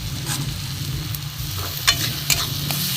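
Spice masala fries and gets stirred in a pan while cooking vegetarian vegetable dal, a steady sizzle under a few sharp scrapes of the spoon against the pan.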